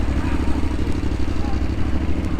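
A motorcycle sits idling close by, its engine giving a steady, rumbling low pulse that keeps going throughout at an even level.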